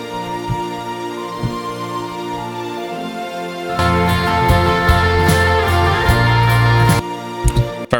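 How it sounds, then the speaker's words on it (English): A produced orchestral arrangement of strings, woodwinds and violins plays steadily with sustained layered tones, swelling fuller and louder midway before easing off near the end. "Using some woodwinds and violins, and those all combine together to sound like this."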